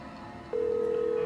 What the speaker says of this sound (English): Ringing. Ringing.